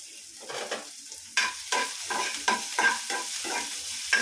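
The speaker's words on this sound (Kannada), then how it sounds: "ಫ್ರೈ ಮಾಡ್ಕೊಳ್ಳೋಣ." Chopped onions and curry leaves fry in hot oil for crispy gobi pepper fry, a close sizzle broken by repeated rhythmic scraping strokes of a stirring spoon, with no voices.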